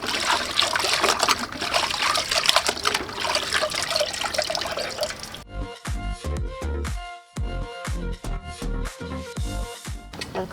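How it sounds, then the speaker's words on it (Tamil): A goat intestine is rinsed under running water: a close, steady gush of tap water first, then choppy splashing and sloshing in uneven bursts, with no talking. "திருப்பினதுக்கப்புறம் நல்லா இதை தண்ணி விட்டு அலசணும்."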